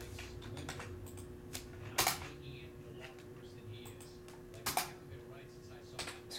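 Keys clack in short bursts on a computer keyboard, faint and close, with a few sharper isolated taps in a quiet room and no clear talking.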